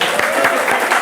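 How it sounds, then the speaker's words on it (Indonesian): Dense, loud applause from a podcast studio audience, a continuous wash of clapping throughout the brief moment. "Tepuk tangan untuk orang-orang komitmen."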